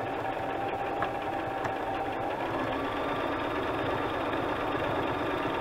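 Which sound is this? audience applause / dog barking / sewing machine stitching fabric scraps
sewing machine stitching fabric scraps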